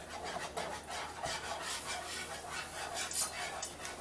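A whisk works flour into a roux in a pan, giving a faint, quiet scraping and rubbing in short repeated strokes.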